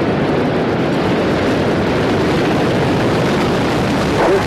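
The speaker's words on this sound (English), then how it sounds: "We have booster ignition and liftoff of the Space Shuttle Atlantis" A deep, continuous rumbling roar from the Space Shuttle Atlantis boosters igniting at liftoff on mission STS-110, loud and sustained throughout without a break.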